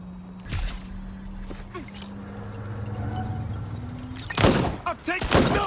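Gunshots crack out in the Watch Dogs Legion game, a few scattered thuds first, then a loud cluster of sharp shots near the end over a steady background hum.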